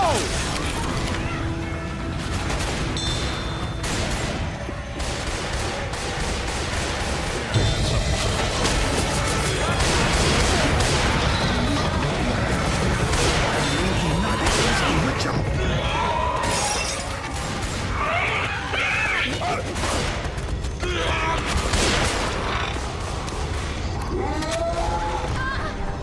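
Grenade and Molotov blasts in a chaotic video game firefight, with dense crashing, shattering bursts and heavy booms layered over constant battle noise, under shouted voices; a harder impact hits around the middle.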